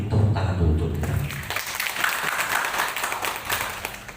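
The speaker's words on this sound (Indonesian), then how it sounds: "Tepuk tangan dulu untuk kita." An indoor audience at a coffee-processing training event breaks into applause welcoming the speakers, rising after a brief low rumble at the start and continuing as steady, moderate clapping.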